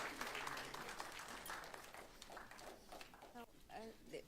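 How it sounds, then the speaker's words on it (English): Applause from a crowd at a panel discussion and ideathon, a dense patter of clapping mixed with voices talking over it, fairly close and steady before tapering off. "A round of applause for Dr. Divya."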